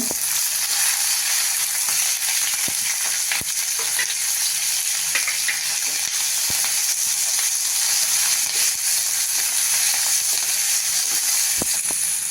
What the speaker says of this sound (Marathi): मिरच्या आणि लसूण आपल्याला त्यामध्ये परतून घ्यायचं तेल गरम झालं आहे जिरं घालूया त्यानंतर आता या मिरच्या घालूया आपण